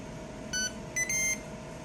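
A Ninja Foodi electric grill gives three short electronic beeps, the last one longer, as it finishes preheating, over a low steady hum, close and fairly clear.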